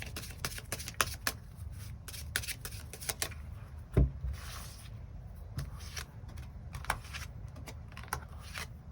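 Tarot cards are shuffled by hand in a steady run of crisp, close riffling flicks and soft slides, with one sharper knock partway through, and no talking.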